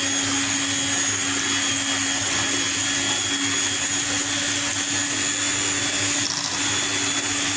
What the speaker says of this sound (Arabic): كنشدو الباطور ديالنا ولا اللي عنده الفوي يقدر يدير الفوي ديالو ماشي مشكل